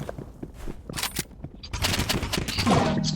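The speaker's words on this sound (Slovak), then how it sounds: "Matias, počujem snajperku." Sniper rifle gunfire in a first-person shooter game, a few sharp shots with bursts of rapid fire and footstep-like taps, mid-loud among game effects, with brief talking.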